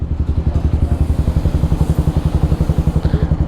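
A Kawasaki Rouser 180 motorcycle engine with an overflowing throttle body chugs in a fast, even pulse, loud and close, holding a steady rumble with slight rises in pitch.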